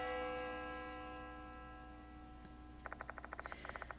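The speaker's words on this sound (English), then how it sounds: "The sound of a bell rings loudly in my ears. It must be coming from the school's clock tower." A school clock tower bell rings in a horror video game: a long, fading bell tone, then a rapid run of bright, evenly spaced metallic strikes, faint and distant.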